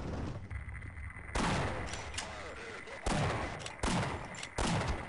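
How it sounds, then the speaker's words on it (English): In the Half-Life video game, a grenade explosion lands among a string of sharp, loud blasts and gunfire, several heavy bangs spaced roughly a second apart with crackling debris between them. "That's a grenade."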